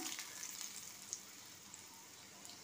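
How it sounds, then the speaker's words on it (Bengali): Curry leaves, chopped garlic and dried red chillies fry in hot oil for a Bengali fish curry, giving a steady, soft broadband sizzle with faint crackles and pops, heard alone without talk. "কারি পাতা দিলাম, ওতে আমি রসুন কুচোগুলো দিয়ে দিলাম, দুটো শুকনো লঙ্কা দিলাম"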